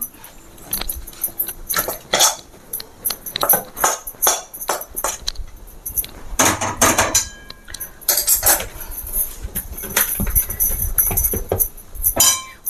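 Hot cashew barfi mixture is scraped out of a pan onto a ghee-greased plate, with dense, loud metallic clanks and scraping of spoon against cookware continuing throughout.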